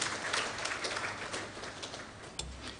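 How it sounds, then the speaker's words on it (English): An audience at a senior high school renewable energy launch event applauds themselves, a moderate, fairly even patter of clapping that holds steady for a few seconds with a brief low thump near the end. "let's give ourselves a round of applause, please"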